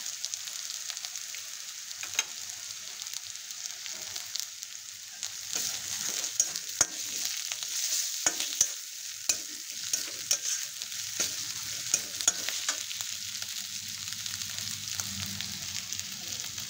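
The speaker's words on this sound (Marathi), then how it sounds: "असं त्याला तेल सुटल्यानंतर असं आलं किसून घेतलं की ते टाकायचं" Grated ginger fries in hot oil for chole bhaji, a steady close sizzle with occasional sharp spatters and light stirring scrapes throughout.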